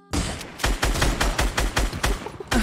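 Rapid gunfire in Fortnite: Battle Royale, about ten loud, evenly spaced shots in quick succession, close and dominant with no talking over them.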